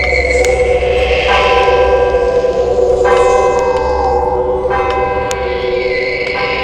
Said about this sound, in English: The final church bell chimed.